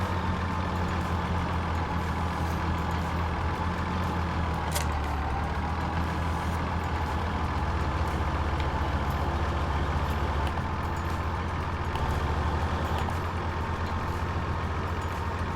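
A loud, constant diesel tractor engine drone in Farming Simulator 2017 rumbles steadily with a deep low hum and little change, close by.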